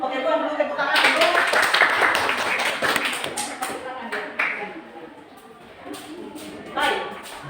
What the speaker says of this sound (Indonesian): Oke, buat dulu tepuk tangan dulu.